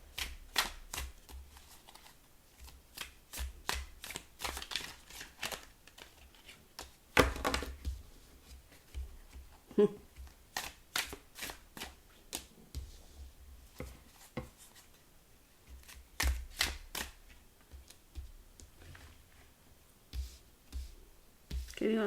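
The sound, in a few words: tarot cards being shuffled and handled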